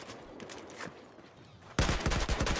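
Rifle fire from Battlefield 4 erupts partway through, a dense loud burst of rapid shots following quieter background noise, with no talk over it.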